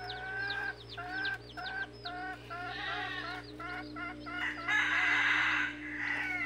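A red junglefowl rooster crows repeatedly alongside steady clucking from nearby fowl, with a constant low hum underneath; no talking.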